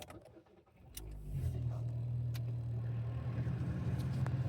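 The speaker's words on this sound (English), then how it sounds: "I'm gonna get the car going." A car engine cranks and catches after a moment of quiet handling noise, then settles into a steady low idle hum, close and moderately loud, with birds faintly audible outdoors.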